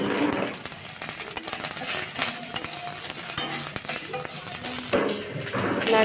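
Grated coconut frying and being stirred in oil in a wok, a steady bright sizzle with scraping stir strokes throughout, close and fairly loud.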